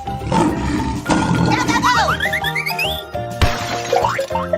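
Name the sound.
lion roaring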